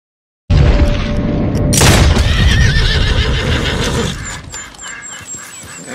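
A single loud gunshot boom fired at a beaver in Red Dead Redemption 2, sharp and close, amid a horse's whinny, snorting and outdoor game ambience.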